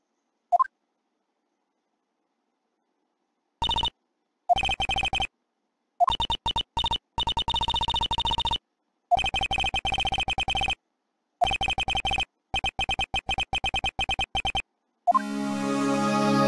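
A ringing phone in the Phoenix Wright: Ace Attorney – Justice for All video game, a Nokia-like handset, sounds in repeated electronic bursts of trilling tone separated by short gaps, followed by a brief different electronic chime at the end.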